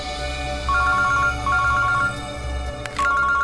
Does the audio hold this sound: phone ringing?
yes